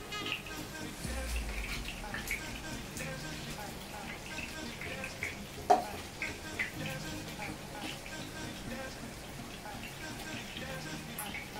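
Chicken pieces frying in hot oil in a home kitchen for Filipino chicken adobo, giving a steady crackling, rain-like sizzle throughout, with a sharper spatter near the middle.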